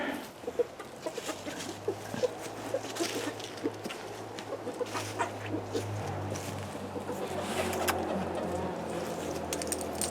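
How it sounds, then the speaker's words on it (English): Young white Chanticleer chickens in a coop: repeated soft clucks and short calls at close range, with pigeon-like cooing mixed in and a low steady hum beneath, no talk. "the white birds there, those are chanticleers, and they're younger"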